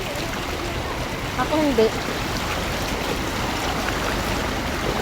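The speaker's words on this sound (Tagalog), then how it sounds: "bulwak-bulwak ang kanal. Ganito katindi yung baha ngayon." Canal water gushes hard during a flood, a loud continuous rushing roar with a brief voice speaking over it.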